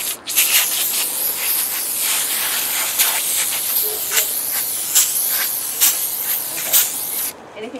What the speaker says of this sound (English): Applying the coil cleaner.